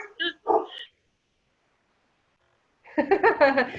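A dog gives a couple of short, sharp barks close by, then falls silent before a person starts talking.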